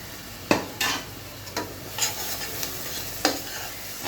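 Chopped onions fry in a pan for chicken curry, giving a soft steady sizzle broken by several sharp stirring scrapes and clinks of a spatula against the pan, with no voices.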